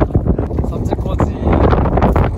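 Gusty seaside wind at Seopjikoji, Jeju, pounding straight into the microphone as a loud, fluttering low roar that holds for the whole stretch, with some voice murmurs buried beneath it.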